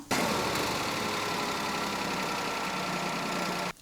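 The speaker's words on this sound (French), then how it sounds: "même lorsqu'elle est à l'arrêt, vous, les personnes qui n'ont pas de problème, vous allez entendre la voiture comme ça." A car idling while parked, a steady continuous engine drone at moderate, ordinary loudness with no voices over it.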